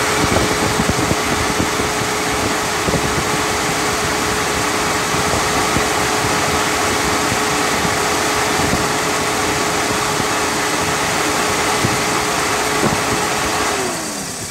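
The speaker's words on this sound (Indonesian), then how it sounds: "Jadi kipasnya harus menyala secara otomatis." A Suzuki Karimun Kotak car idles steadily with its radiator cooling fan whirring, a loud continuous engine hum and fan rush close by that holds evenly before the fan winds down at the end.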